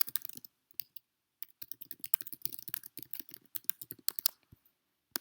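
Fingers type on a computer keyboard in quick, irregular bursts of light close clicks, with a short quiet gap near the start.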